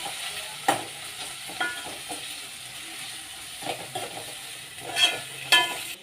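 Tomato and ginger-garlic paste frying with browned onions for a pepper chicken liver fry, a steady sizzle with intermittent sharp spatula scrapes and stirring knocks, close and moderately loud.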